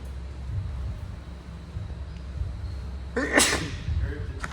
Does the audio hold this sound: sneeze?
yes